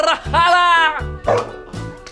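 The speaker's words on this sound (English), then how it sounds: "But then he recognised that bark." A dog barks, probably a small one such as a chihuahua, in a cartoon story. Three close, loud barks with tonal yelps follow each other quickly. The voices sound high and stylised, as if a person may be performing them.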